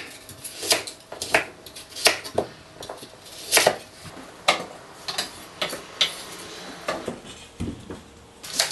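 A knife chops squid into 1-inch pieces on a board for Korean squid soup, giving roughly a dozen sharp, close knocks in an uneven rhythm with short gaps between strokes.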